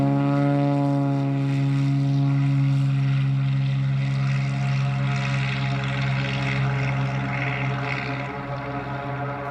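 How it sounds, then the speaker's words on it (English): A small Cessna 206 propeller airplane in flight, its engine and propeller droning loudly and steadily with strong harmonic tones throughout, no talk. "We would be flying in a little Cessna 206."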